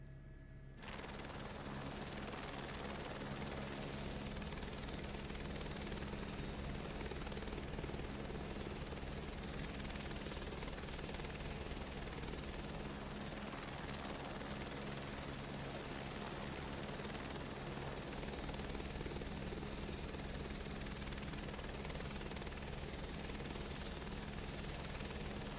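A helicopter in Microsoft Flight Simulator 2024 whirs steadily with a constant rotor and turbine drone that holds at an even, loud level throughout.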